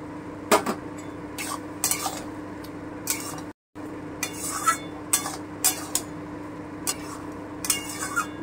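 A metal spoon scrapes and clinks against a pan while egg tadka with butter is stirred, giving repeated sharp taps and scrapes at an irregular pace over a steady low background hum, with a brief silent gap midway.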